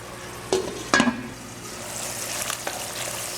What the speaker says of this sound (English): the point of this step is just to cook the tomatoes down until it gets soft